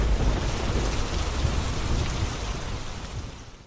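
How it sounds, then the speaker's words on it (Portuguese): Heavy rain pouring steadily during a severe night storm with thunder rumbling low underneath, a dense loud wash that fades slightly toward the end. "Os raios e trovoadas eram assustadores."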